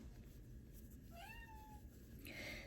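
A single drawn-out cat meow rising then falling, fairly close, over a steady low background hum, followed by a brief hiss of noise.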